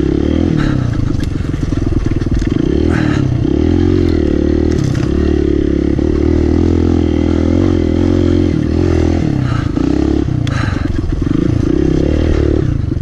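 A motorcycle riding a lap on a snowy private track, its engine droning loud and close throughout with fluctuating revs and some clattering and scraping over the ride.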